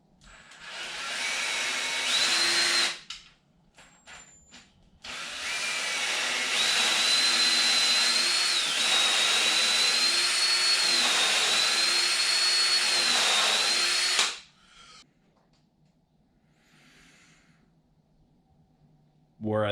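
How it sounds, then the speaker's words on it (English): A power drill bores a pilot hole for a lag screw into the wood of a garden trellis, running in two loud sustained bursts with a short pause between, then stopping. "I'm gonna drill a pilot hole here, and this is where the lag screw is gonna go to hold my top piece on"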